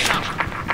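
A grenade goes off in a shooter video game, a short sequence of booming blasts with about three dull thuds spaced close together and a loud rumbling tail.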